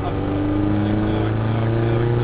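A Peugeot 206 Group N rally car accelerates, its engine heard from inside the car as a loud, steady drone that climbs slightly in pitch throughout.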